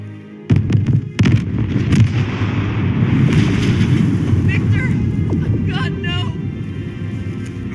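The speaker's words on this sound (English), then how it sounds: "Explosion in the bay." A large explosion in the bay in the video game Batman Arkham Knight, a heavy booming blast that rolls into a sustained rumbling roar with crackling debris, voices briefly heard late.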